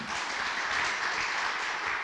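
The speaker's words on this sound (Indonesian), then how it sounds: "Kita beri sorak-sorai dulu buat Tuhan" A church congregation claps and cheers together for God, a dense, steady wash of applause and voices that stays loud throughout, with no single voice standing out.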